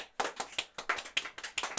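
Hand claps at a live rock show in a Pittsburgh venue, a fairly even, close rhythm of about eight sharp claps with no talking over them, sounding like only a few people joining in rather than a full crowd.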